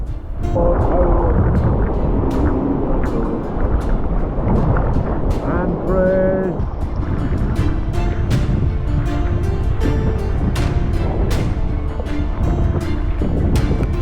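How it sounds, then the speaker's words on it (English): Howling wind roars loud and constant while sea kayaking around Scarba, Corryvreckan and Jura, buffeting the microphone with rushing water and gusts that never let up. "The howling wind noise totally drowned out Ian's fine singing voice at one point."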